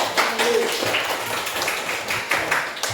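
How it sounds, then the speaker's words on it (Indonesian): Classroom audience clapping for a student group after a presentation, a lively burst of many hands with a few sharper individual claps standing out, lasting several seconds. "berikan tepuk tangan yang meriah"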